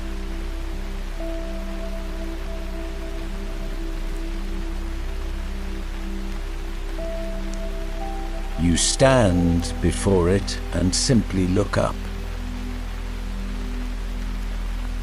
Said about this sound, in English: The rain in the canopy above sounds different here, more complex, more layered.